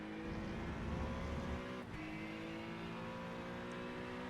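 Onboard sound of an NSX GT3 race car driving down a track, a steady harmonic engine drone with a brief dip partway through, fairly faint, no talking.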